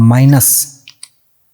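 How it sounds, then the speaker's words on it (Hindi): Two quick, light computer mouse clicks form a double-click in video editing software, following a man's speech and standing alone in near silence. "मैं इसको यहाँ पर डबल क्लिक करूँगा"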